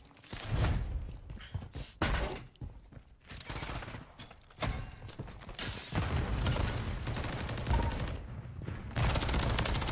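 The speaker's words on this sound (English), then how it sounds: "I'm shooting still. Yeah, we're shooting." Gunfire in Call of Duty Modern Warfare 3 ranked play, bursts of rapid automatic shots and thuds coming in uneven clusters at moderate volume, with game noise between bursts.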